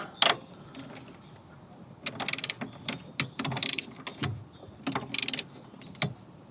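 A ratchet tightens bolts on the lower ball joint of an Audi TT Mk2's suspension, giving several bursts of quick, close clicking separated by short pauses and small clanks, with no talking.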